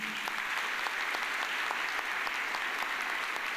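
Steady applause from a church congregation during a Catholic homily, a dense wash of many hands clapping evenly throughout, with no voices above it.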